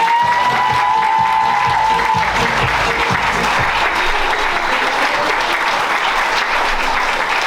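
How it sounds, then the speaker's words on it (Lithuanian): A school event audience applauds steadily and loudly for the children, dense continuous clapping with faint cheering throughout, no speech over it. "aplodismentai"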